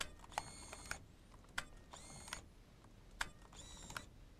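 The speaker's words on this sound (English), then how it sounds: "Then press the shutter release 3 times" A 35mm compact camera's shutter release is pressed repeatedly, giving three or four crisp mechanical clicks with brief whirring in between, close and isolated in a quiet room.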